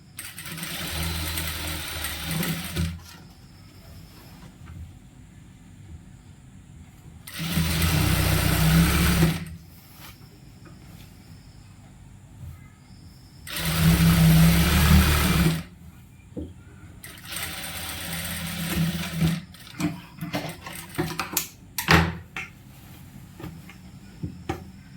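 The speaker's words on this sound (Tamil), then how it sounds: "இந்த சைடும் அதே மாதிரி தைச்சிக்கலாம்." A sewing machine stitches a churidar in three loud, steady bursts of about two seconds each, with quieter handling noise and clicks between runs and no talking.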